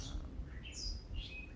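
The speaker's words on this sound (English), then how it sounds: "Maybe the birds that are singing here are singing for you." Birds chirp and call in an outdoor setting, several high, brief tweets scattered over a steady low background rumble, fairly faint and with no talking.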